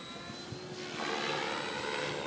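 A large Logo 600 radio-controlled model helicopter drones overhead, its steady rotor and engine whine swelling louder after the first second, with no voices.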